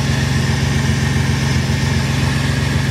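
An old Ford engine idles steadily up close, a continuous low rumbling throb with even rhythmic pulses and no voices.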